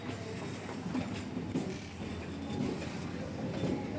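Steady low rumble and soft rhythmic clatter of a train in motion, heard from inside a carriage, fairly quiet with no voices.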